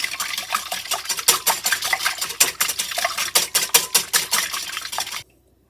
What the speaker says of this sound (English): just beat these eggs